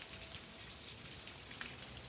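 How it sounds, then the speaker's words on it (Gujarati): Steady, dense rainfall pouring down, a continuous heavy hiss with scattered drops spattering on a surface, no voices. "બહાર ચાલુ છે ધોધમાર વરસાદ. જોરદાર પડે છે વરસાદ આજે તો."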